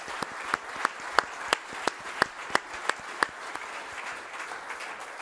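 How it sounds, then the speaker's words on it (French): Audience applauding at a charity pitching event, a scattered clapping crowd with distinct louder claps standing out, fading toward the end. "Donc je voudrais qu'on les applaudisse une nouvelle fois pour ce qu'ils font en ce moment."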